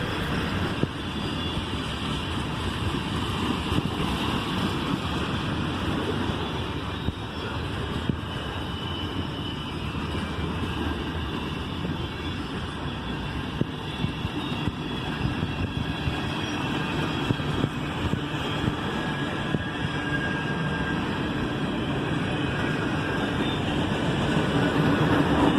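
A Norfolk Southern mixed manifest freight train rumbles past at close range, a steady broad roar of wheels and cars holding for the whole stretch and growing slightly louder toward the end.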